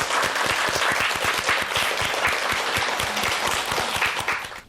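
Studio audience applause welcoming a 77-year-old explorer's special lecture on a Korean morning TV program, loud crisp clapping from many hands sustained evenly before tapering off at the end.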